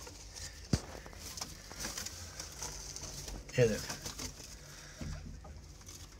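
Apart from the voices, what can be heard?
pigeons cooing and moving in a loft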